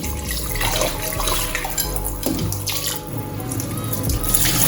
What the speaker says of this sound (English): you wash it until the water gets clear